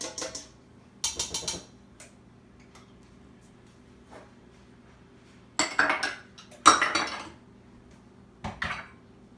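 A whisk clinks and rattles against a bowl as warm water and active yeast are mixed, coming in a few short bursts separated by near-silent pauses.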